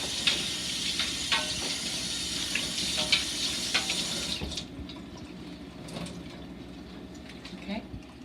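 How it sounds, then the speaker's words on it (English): Tap water running into a sink as a half-face elastomeric respirator is rinsed, a steady splashing hiss that drops to quieter trickling and drips midway, with scattered clatters of handling. "And we'll rinse it with running water."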